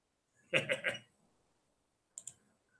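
Computer mouse clicks, a quick cluster of three close together followed by a softer pair a moment later, crisp and near with quiet gaps between.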